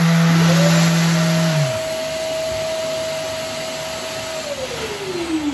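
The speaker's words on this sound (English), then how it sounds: "also just switch it on as a vacuum" Trend T33a wet and dry M class dust extractor running as a vacuum, a loud steady whine with a rising pitch as the motor spins up, then a long even drone that falls off as it winds down.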